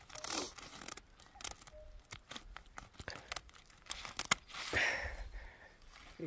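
Scissors cut through a weed control mat used as mulch when planting watermelons, giving a close, quiet series of sharp snips and crinkling tears at an irregular pace.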